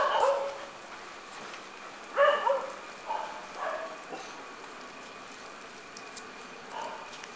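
Dogs bark at night along a street, a few distant yips and barks in short bursts scattered over steady faint background hush, with no one speaking.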